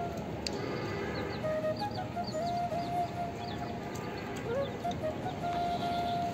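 A desi hen and rooster on a farm give scattered clucks and calls over a steady background hum, fairly close, with other birds faintly chirping and no speech.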